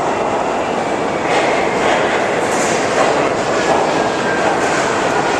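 Subway train at 14th Street station in New York rumbling loudly and continuously through the underground platform, a dense, steady roar with faint metallic screeches.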